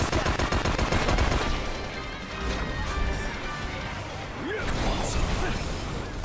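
Gunfire and crashing impacts from combat in the Final Fantasy XV video game fill the clip, dense and continuous, with a voice talking over the fight.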